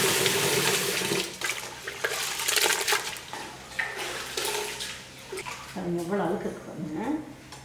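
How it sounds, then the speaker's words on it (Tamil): Millet grains are washed in water in a large vessel, making close sloshing, swirling and splashing sounds that swell and ease, with a voice talking in between. "இது எல்லாமே நல்லா கழுவிடலாம் அதனால் ஒரு பெரிய பாத்திரத்தில் போட்டுக்குவோம்"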